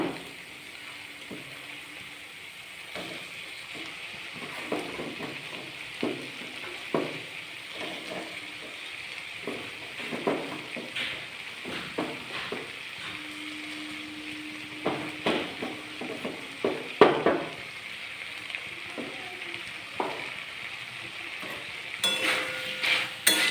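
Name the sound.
soya mince frying and being stirred with spices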